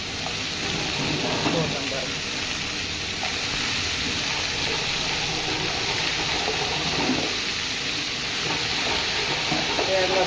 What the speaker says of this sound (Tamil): போட்டு நல்லா கிண்டி விடுறேன் பாருங்க